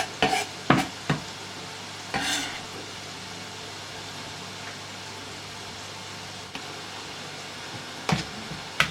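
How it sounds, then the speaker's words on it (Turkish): Onion salad being tossed and mixed with finely chopped parsley in a bowl, a few brief stirring scrapes and soft clinks near the start and end with quiet background between. "Şöyle karıştırıyoruz ve soğan salatamız hazır olmuş oluyor"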